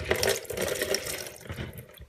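Water from a disconnected toilet supply line at the fill valve splashes and trickles into a bucket close by, a brief burbling pour that fades toward the end.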